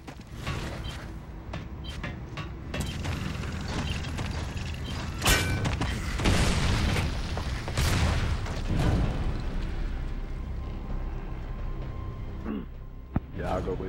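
Boomshot explosions in Gears of War 3 multiplayer, several booming blasts and mechanical clanks mixed among game sounds while players talk over them.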